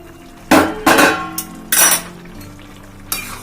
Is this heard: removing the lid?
yes